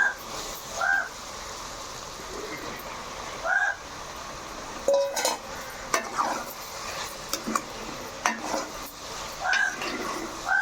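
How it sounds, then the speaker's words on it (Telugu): Tomatoes frying in a pan for a dried-fish and brinjal curry, a steady sizzle under repeated scraping stirs of a utensil against the metal pan, with clinks of cookware throughout. "ఇప్పుడైతే టమాటాలు వేసేస్తున్నాను"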